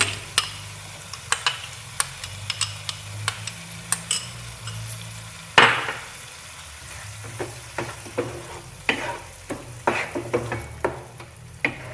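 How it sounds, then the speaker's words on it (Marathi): Mushrooms sautéing with ginger, garlic and tomato puree, a steady frying sizzle under repeated scrapes and clinks of a spoon stirring in the pan, with one louder clatter near the middle. "चांगलं परतून घ्यायचं."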